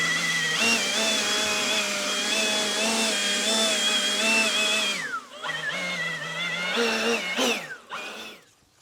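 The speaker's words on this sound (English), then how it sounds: "Be careful and blow all this lava rock out of place." A Milwaukee M18 dual battery handheld blower roars nearby with a steady high whine, blowing across lava rock. It cuts out briefly around midway, then spins back up unevenly before fading at the end.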